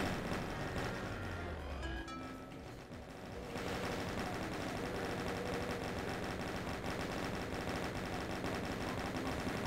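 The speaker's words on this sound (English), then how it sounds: "the chain gun does fire a little bit faster" Rapid continuous chain gun fire in a Doom game, a dense unbroken mechanical rattle filling the clip after a brief descending whine at the start, loud and close, no talking.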